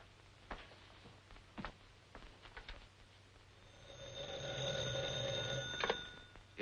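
A telephone bell rings in a 1942 film scene, a sustained bright electric ring building up loudly after a few quiet knocks and rustles, with no talk over it.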